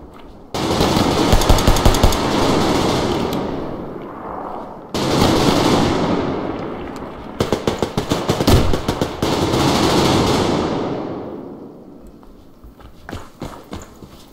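Pistol gunfire in the video game Survarium: loud bursts of rapid shots in two long volleys, with scattered single cracks between and after them.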